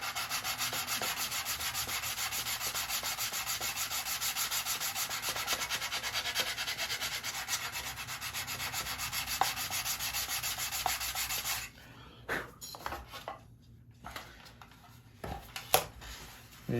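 A 220-grit sanding block rubs back and forth over a balsa model airplane fuselage in a steady, dense scratching for most of the clip, then breaks into scattered handling clicks and short strokes.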